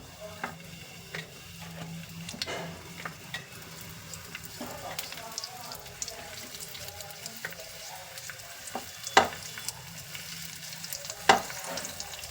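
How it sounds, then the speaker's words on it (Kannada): Carrot slices sizzling and frying over browned cumin seeds in a pan, a steady close crackle with occasional sharper pops and stirring scrapes, no talking. "ಈಗ ಇದ್ರ ಮೇಲೆ ಕ್ಯಾರೆಟ್ ಸ್ಲೈಸ್ ಎಲ್ಲ ಈ ಥರ ಜೋಡಿಸ್ಕೊಬಿಡೋಣ."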